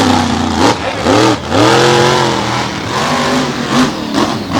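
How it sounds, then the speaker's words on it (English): Monster truck engines rev at a drag race start in an Evansville arena show, with repeated loud swelling roars and revs that rise and fall in bursts, near and alone with no talk. "his wife, Dawn Cretin, and Scarlet Bandit, the two extreme racing machines out of Kansas."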